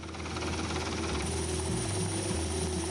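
Military helicopter descending toward the flight deck of the French navy ship Tonnerre, a steady loud rotor thrum with engine whine that holds throughout, no voices.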